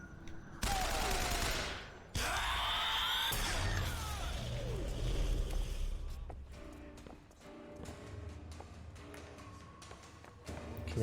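Gunfire in the video game Bioshock Infinite, loud bursts and rapid shots with sharp cracks over a busy game soundscape, easing off toward the end.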